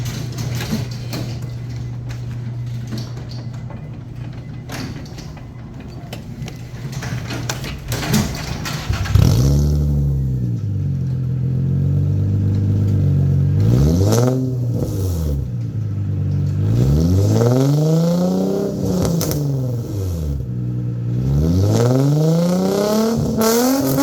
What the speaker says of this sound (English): Well, Boo, what'd you think of the new exhaust?